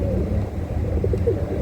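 A pet pigeon coos softly aboard an offshore ship, a low steady murmur of repeated coos over a constant engine-like rumble, with no talking.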